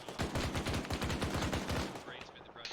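Rapid machine gun bursts from a heavy MG, loud and sustained for about two seconds with a fast regular rhythm, then tailing off into fainter background noise.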